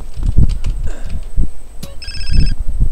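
Phone ringing in GTA San Andreas: a short electronic ringtone trill rises over steady game engine and ambient rumble, fairly loud, with no one talking.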